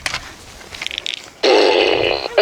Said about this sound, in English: about dog treats and the fart gun